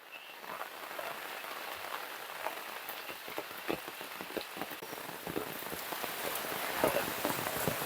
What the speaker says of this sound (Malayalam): മേപ്പാടി നല്ല മഴയാണ്.